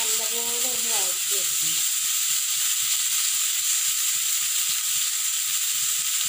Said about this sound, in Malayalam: ഇത് ഒരുവിധ നല്ലപോലെ ഒന്ന് വഴറ്റി വയ്ക്കുന്നു.